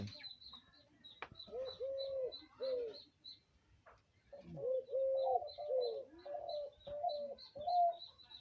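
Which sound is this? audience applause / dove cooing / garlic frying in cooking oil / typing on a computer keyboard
dove cooing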